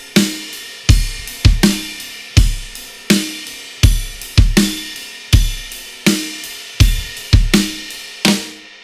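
Rock drum kit groove from a song chorus, bass drum and snare alternating in a driving pattern with crisp cymbal wash over each hit, loud and close with no talking.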